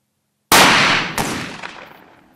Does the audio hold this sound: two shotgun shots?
yes